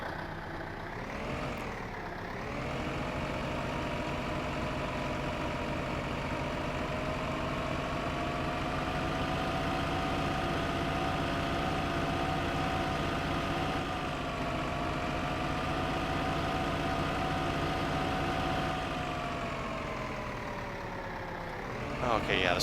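A tractor engine in the video game Farming Simulator 15 idles steadily with a low, constant rumble that swells slightly after starting and holds on without any talking.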